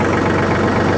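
A big yellow tractor's engine idles steadily nearby, a continuous low rumble with a constant hum and no other sounds.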